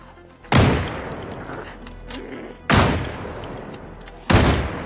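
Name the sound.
rifle gunfire in video game Project Zomboid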